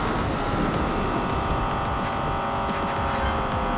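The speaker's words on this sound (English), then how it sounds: "the engine sound actually sounds pretty dope" McLaren Senna engine in the Hot Wheels Unleashed racing game, a steady high-revving buzz with shifting tone, loud and continuous throughout, with no voices over it.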